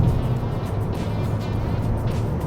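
A Hyundai Sonata 1.6 gasoline sedan accelerating gently with the pedal held at about 20 to 30 percent: a steady, low engine drone with road noise, even and continuous throughout.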